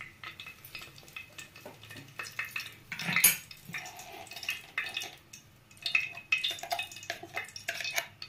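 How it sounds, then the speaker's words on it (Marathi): Bay leaves dropped into hot oil in a pan while cooking chicken curry, with clinking of metal utensils against the pan, scraping stirs and light sizzling in irregular bursts, close up, no speech. "आपला हा तेल छान गरम झालेला आहे। आपण आता याच्यामध्ये हे तेजपत्ता टाकून घेऊ।"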